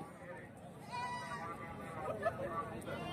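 Goats bleating amid the crowd babble of a busy livestock market, a few faint calls rising over steady distant chatter and people talking nearby.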